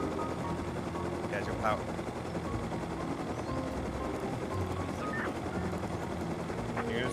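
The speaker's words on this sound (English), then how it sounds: "Get ready to jump out, get in this heli." Helicopter in the survival game Rust, a steady droning rotor and engine hum running throughout at close range, with occasional sharp gunfire-like cracks and players talking over it.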